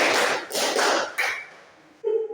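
Students in a classroom clap in unison during a counting clapping game, three sharp, loud group claps spaced about half a second apart, followed by a brief spoken word close by.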